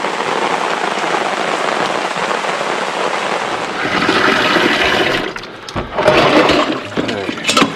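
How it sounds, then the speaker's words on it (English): Steady rain falls at a lakeside campsite at Lake Eaton in the Adirondacks, a dense, loud hiss with patter that swells slightly midway and carries a few brief splashy bursts near the end. "Back to the rain."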